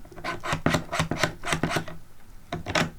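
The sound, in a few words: Allen wrench tightening screws on camera top handle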